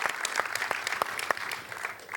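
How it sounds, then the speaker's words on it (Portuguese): An audience at a Catholic gathering gives a short round of applause, with scattered, moderately distant clapping that holds steady for a couple of seconds at fairly low volume. "uma salva de palmas também para a comunidade Shalom"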